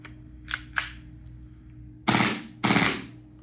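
A TP-22 pistol fed from a standard Glock magazine fires on full auto: two faint sharp reports, then two loud broadband bursts about half a second apart, with no one talking.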